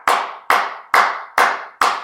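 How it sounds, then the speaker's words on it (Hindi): Hands clap loudly in a steady rhythm during a yoga exercise, five sharp, evenly spaced claps close by, with no talking. "सबसे पहले इस पोजीशन हम ताली बजाएंगे"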